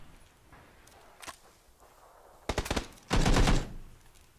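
Gunfire in PUBG: a couple of isolated sharp shots, then a quick cluster of cracks followed by a louder sustained burst of automatic fire over faint background noise.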